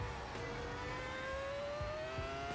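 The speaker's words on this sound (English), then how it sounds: "Listen to that engine." A Ferrari Formula 1 race car engine drones steadily with a rising, whining pitch as it revs and accelerates, loud and continuous throughout.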